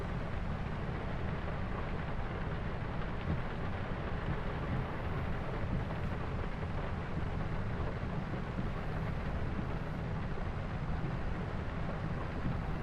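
Rain in Farming Simulator 25, a steady dense wash of falling water that stays loud and even throughout with no breaks or voices.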